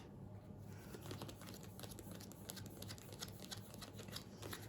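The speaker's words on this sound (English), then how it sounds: "I guess you're shuffling the 8 cards." Eight playing cards from the board game Jekyll & Hyde vs Scotland Yard are shuffled by hand, producing a steady run of soft, crisp riffling and crinkling clicks, fairly faint and close, with no voices.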